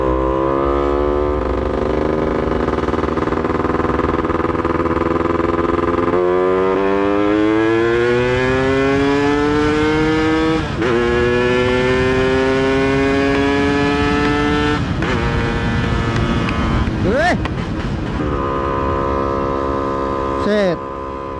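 Yamaha F1ZR two-stroke motorcycle engine revving up close by, with the pitch climbing in rising sweeps, dropping back and climbing again. Bursts of sharp throttle blips come near the end, and the engine stays loud throughout.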